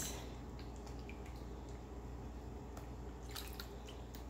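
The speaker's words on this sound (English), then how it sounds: "So let me just put a little bit of water" A small splash of water, about a quarter cup, poured into a chicken dish being prepared at home, heard as a steady low liquid wash with a few faint drips and squishy clicks throughout, no talking.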